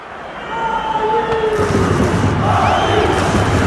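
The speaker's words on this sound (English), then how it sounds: "The crowd certainly think so. Just listen to that noise." Stadium crowd noise in the football video game EA FC Mobile swells into a sustained, loud roar of cheering, with a few whistle-like tones rising over the din.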